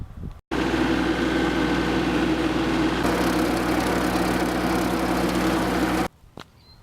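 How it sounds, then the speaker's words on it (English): Tractor mower cutting grass along a farm fence line, a loud steady engine drone with constant low rumble and blade hum, running unbroken for several seconds before cutting off abruptly. "Another job this week on the farm is mowing along the fence line."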